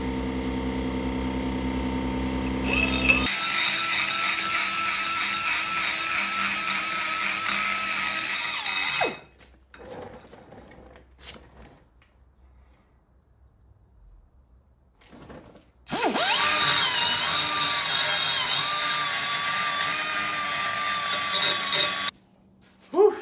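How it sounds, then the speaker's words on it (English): Power grinder working out the eye of an axe head, a loud continuous high-pitched whine for several seconds, a quiet pause with faint handling noise, then the grinding resumes just as loud before cutting off. "after a lot of grinding, we're a couple hours in on this axe just on grinding the eye out alone."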